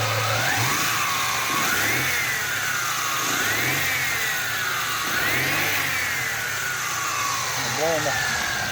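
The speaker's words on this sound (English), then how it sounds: "You can actually hear the alternator." A running 1996 Mustang engine with a fresh alternator gives off a steady close hum, and a whine that rises and falls in repeated sweeps as the revs climb and drop.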